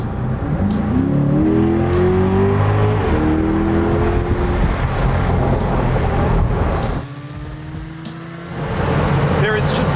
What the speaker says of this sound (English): There is just so much power, and the engine roars, and it just wants to keep going.